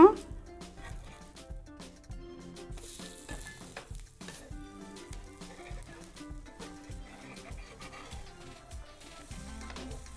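A besan-coated bread toast fries in oil on a tawa over a medium flame, giving a steady, low sizzle beneath a person talking throughout.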